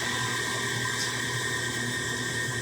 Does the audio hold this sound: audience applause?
no